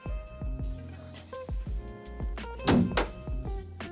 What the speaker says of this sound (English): I'll see if the door closes